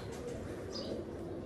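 A teddy-coloured pet pigeon gives soft, low, repeated coos at close range, with faint chirps in the background.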